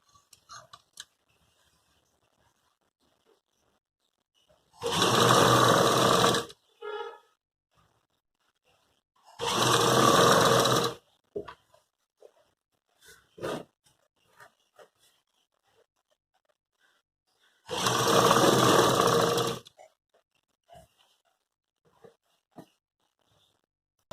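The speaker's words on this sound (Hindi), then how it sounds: "अब हम इसमें सिलाई लगाना स्टार्ट करते हैं।" A sewing machine stitches the lining into a salwar suit with a readymade collar, running in three separate bursts of about a second and a half each, with quiet gaps and small handling clicks between them.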